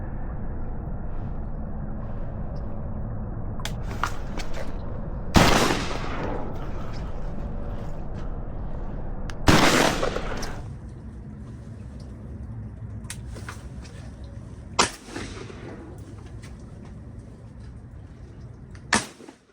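Shotguns fire during a duck hunt in Arkansas, with two loud sharp blasts close by and a few fainter, more distant shots over steady rain and wind noise.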